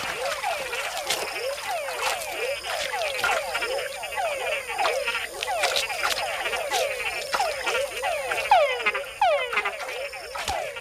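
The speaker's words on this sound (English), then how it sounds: "with other bigger frogs nearby, a call can be a fatal attraction" A dense chorus of frogs calling in a Panamanian wild habitat, many overlapping croaks and chirping trills repeating rapidly throughout, close and steady with no pauses, alone without any talk.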